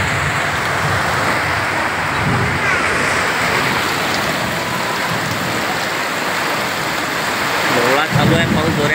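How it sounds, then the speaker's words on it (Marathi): Heavy monsoon rain pours down in a dense, continuous roar, close and loud, during a thunderstorm with lightning, with people talking faintly underneath. "पाणी आलं भयानक चालू आहे पाऊस."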